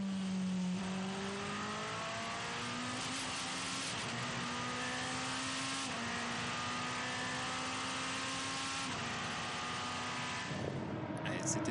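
Lamborghini hypercar driven by Daniil Kvyat accelerating hard out of the final corner during qualifying at the Qatar 1812 km, with a continuous high engine whine rising through the gears, loud and sustained under French race commentary.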